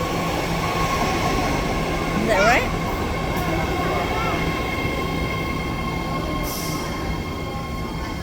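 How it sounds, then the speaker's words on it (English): BART subway train at Powell Street station, a steady underground rumble with wheel squeal and screeching at the platform, while people chat nearby. "This is a Richmond train to Richmond."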